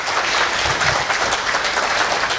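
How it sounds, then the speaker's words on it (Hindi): An audience at a live event in Patna breaks into loud, dense applause that holds steady throughout, with many hands clapping at once and no voices audible. "कुछ जोरदार ताली अगर आप लोग लगाएं"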